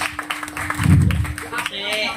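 Hands clap in short bursts after a singer performs at an informal Javanese gamelan music session, heard under overlapping talk and a low hum.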